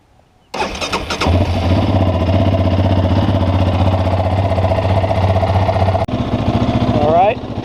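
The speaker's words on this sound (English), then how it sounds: "First, start off by warming up your engine so that way the oil will flow more easily." An engine, likely a motorcycle, cranks and catches, then idles steadily and loudly while warming up before an oil change. A short click cuts in near the end.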